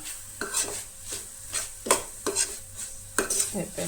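Cardamom being stirred into a prawn filling in a pan, a series of scraping spoon strokes and clinks against the metal with a light sizzle underneath, close and fairly loud.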